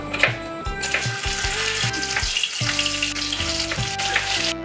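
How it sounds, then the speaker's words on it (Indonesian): Chopped vegetables frying in a hot wok, a steady loud sizzle broken by repeated scraping stirs and clanks of the utensil against the pan, with no talking. "Kita nak goreng dekat dalam kuali ni."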